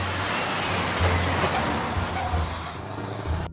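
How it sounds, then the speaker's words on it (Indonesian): A toy sand truck releases a continuous, loud air-brake hiss that fills the whole stretch over a low, steady hum. "Kita mendapatkan truk pasir"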